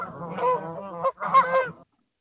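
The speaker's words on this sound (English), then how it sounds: "ducks going by" Waterfowl called ducks pass by, giving a loud, close burst of nasal honking calls in two runs separated by a brief gap, then falling silent.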